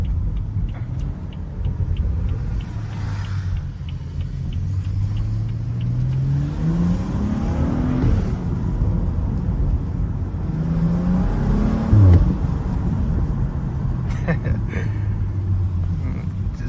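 A BMW F30 335i accelerates hard from inside the cabin, the engine note rising through two pulls with a deep rumble and a shift between them, loud and close, with a person talking over it.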